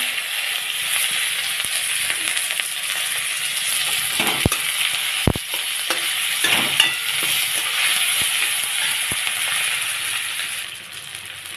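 Whole cumin seeds and chopped onion frying in oil left over from frying fish, a steady close hiss of sizzling throughout with a few sharp clicks of a utensil against the pan.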